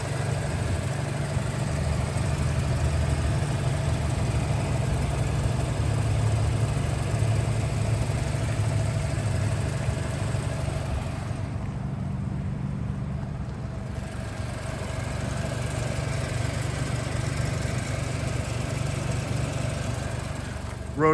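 A 1980 Mazda RX-7 rotary engine idles smoothly and steadily close by, a continuous low hum that barely changes throughout, with no talking.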